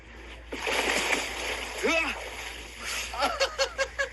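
Someone jumps into a chlorinated swimming pool fitted with a filtration system, making a close, loud splash followed by sloshing water, with people talking over and around it.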